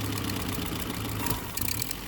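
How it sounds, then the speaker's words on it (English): An old car engine idling quietly and smoothly, a low steady rumble with faint mechanical ticking, heard at a modest level with no talk over it. "Oh, it's idling!"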